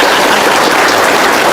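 Loud, dense applause from a group, a continuous short burst of clapping with no gaps.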